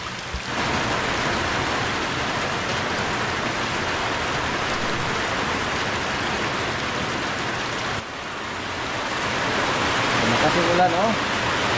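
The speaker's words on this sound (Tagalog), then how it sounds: "Kasi ulan, oh." Steady rain pours outdoors near a backyard fish pond holding koi and tilapia, a dense continuous hiss that holds evenly across the whole stretch and swells slightly near the end.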